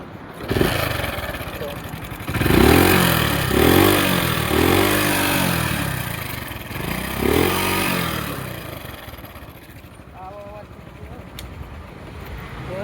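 A Honda motorcycle engine runs and revs in several rising surges, fairly close, with people talking over it.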